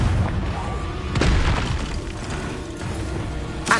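Spell blast from a Confringo cast in Hogwarts Legacy, a loud sustained booming roar with a swell near the middle and a sharper burst at the end, filling the whole clip.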